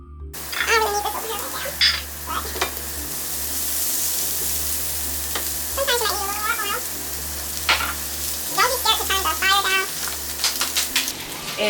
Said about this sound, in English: the chicken is kind of starting to cook a little bit